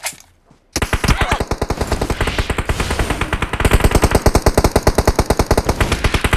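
Automatic gunfire in the mobile game PUBG Mobile: after a brief quiet moment, rapid loud bursts of shots rattle on continuously at a fast steady rhythm, close up and with no voices.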